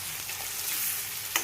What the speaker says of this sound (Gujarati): બધું હવે થોડીક વાર બધાને સોતે થવા દેશો, ચડવા દેશો.